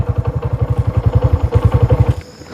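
A motorcycle engine just started and running close by, a fast, even thumping idle with a clattery mechanical edge that holds steady for a couple of seconds before cutting off.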